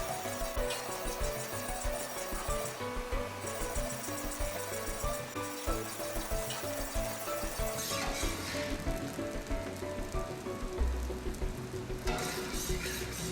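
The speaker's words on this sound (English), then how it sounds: "Stir until the peanuts are red" Peanuts being stirred and fried in a pan for rice pilaf, a quiet continuous sizzle with scraping and rubbing stir sounds throughout.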